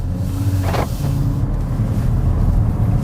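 A BMW 340i Touring's six-cylinder engine in sport mode, a deep, steady low rumble close to the microphone with a brief rising burst of revs partway through, no talking.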